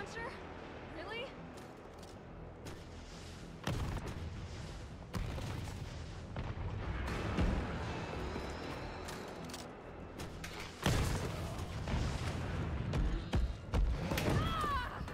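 Rocket launcher fire in the video game Resident Evil 3 Remake, several heavy booming blasts and thuds spread across the stretch amid game action noise, with a voice speaking at times.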